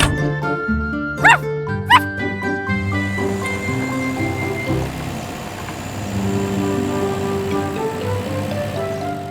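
A cartoon puppy barks twice in quick succession near the start, loud and close, followed by cheerful animated music and vehicle-like sounds in a children's cartoon about helper cars.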